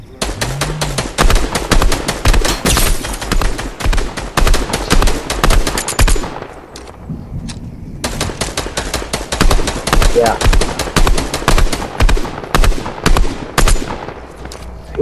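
Loud, rapid automatic gunfire crackles in a video game shootout, dense bursts of shots filling most of the stretch with a short lull in the middle before the firing resumes.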